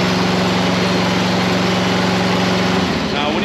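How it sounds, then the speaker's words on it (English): Compact CMC 75L tracked spider lift, a 75 ft machine, running steadily as it retracts to its home position: a continuous low engine and hydraulic drone, close and even, changing slightly near the end. "Click the home button while you hold enable, and the machine's going to retract and pull itself back up."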